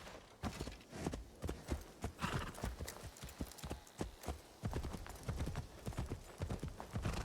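A horse clip-clops in a rhythmic run across ground in the Assassin's Creed Shadows video game, with steady close hoofbeats throughout and no talking.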